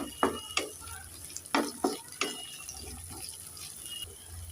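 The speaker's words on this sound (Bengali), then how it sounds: "টমেটোটাকে একটু নেড়ে চেড়ে ভেজে নিয়েছি" Onion and chopped tomato are fried in a pan and stirred. A faint sizzle runs under several distinct scraping strokes, clustered early and fading toward the end, with no speech.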